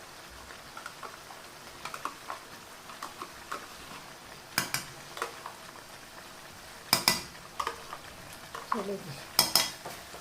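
A spoon scrapes and clinks against a pot as yogurt is stirred into mutton, with sparse, irregular metallic knocks and soft scraping, a few louder clatters near the end, and a brief spoken word.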